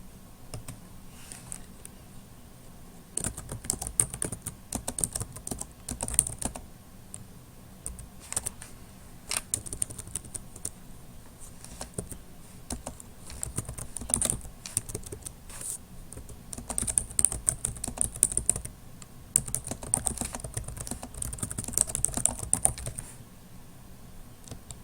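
Computer keyboard clattering as notes are typed, bursts of quick soft keystrokes with short pauses, close and fairly quiet.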